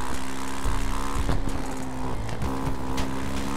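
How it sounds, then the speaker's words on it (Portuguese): A police helicopter in the video game GTA RP passes overhead, its steady rotor and engine drone filling the scene continuously with a few louder swells, set against a tense police confrontation in a game city. "O helicóptero, tá aí. Tem helicóptero da polícia ali."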